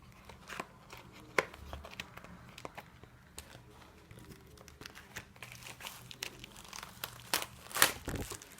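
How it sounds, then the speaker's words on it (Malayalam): Plastic packaging for an ESR smart case for an iPad 7th/8th generation being handled and opened, giving quiet close crinkles, rustles and a few sharp tearing snaps. "So let's unbox this."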